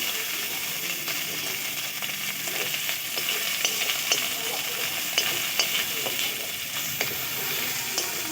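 Tomato and ginger fry in a pan for a dry potato curry, a steady broadband sizzle broken by irregular scraping stirs and clicking ticks from a spatula, close and even in level throughout.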